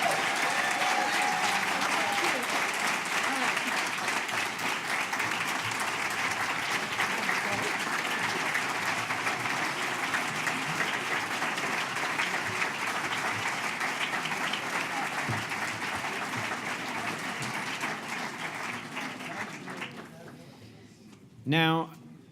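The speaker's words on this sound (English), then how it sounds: "please give a big round of applause for the 2017 McNulty Prize laureates" Sustained applause from a large audience for the 2017 McNulty Prize laureates, a dense steady clapping that goes on for about twenty seconds, then thins and fades out near the end.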